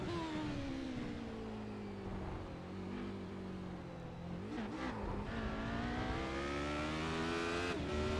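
A Radical race car at Monza with a broken gearbox that cannot shift up to fourth, its engine holding a high, droning rev that rises and dips without gear changes, loud and close under faint background.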